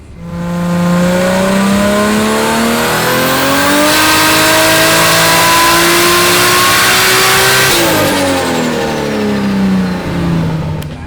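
A car with around 577 horsepower revs loudly and steadily for about eleven seconds, engine pitch climbing and dropping in long sweeps with a brief tire squeal, no talking over it.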